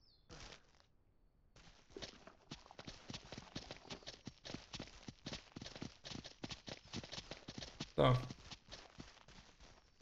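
Horse hooves clip-clop steadily in Ranch Simulator, a fast, regular run of sharp taps at moderate distance with a brief clunk near the end and faint background ambience.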